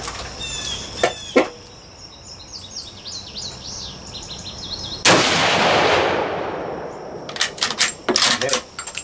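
A Mauser Kar98K rifle fires one sharp, loud crack outdoors, followed by a lingering rolling echo, with birds chirping before and after and brief clicks and voices around it.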